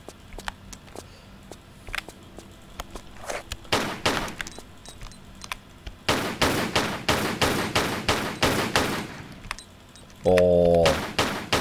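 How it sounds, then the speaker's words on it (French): Gunshots from Lara Croft shooting crates open in the video game Tomb Raider 4, scattered single shots early, then dense rapid bursts of gunfire, followed by a short rising tonal effect, close and loud. "J'aime bien la manière dont Lara Croft ouvre les caisses. Elle les ouvre au flingue."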